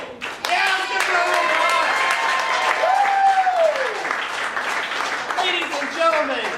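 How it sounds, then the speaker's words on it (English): Lively clapping and cheering from an audience at an improv show, with whoops and exclamations rising over continuous applause. "round of applause!"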